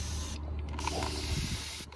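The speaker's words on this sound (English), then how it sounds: "I'll just give them a little spray." A spray bottle hisses in short close bursts while misting succulents, with faint mechanical clicks between sprays.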